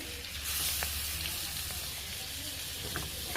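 Pieces of pangas fish fry in hot oil in a pan for a cauliflower and potato fish curry, giving a steady, fairly soft sizzle with occasional small pops.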